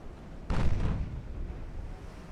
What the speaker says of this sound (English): There's a torpedo hit on one of my destroyers.